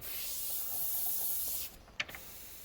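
Paint misted from a spray can onto a Halloween canvas artwork, a steady close hiss lasting over a second and a half before cutting off, followed by a couple of faint clicks.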